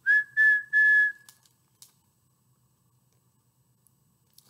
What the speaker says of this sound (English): Or maybe do a whistle.